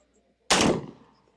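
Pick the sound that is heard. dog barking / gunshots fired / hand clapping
gunshots fired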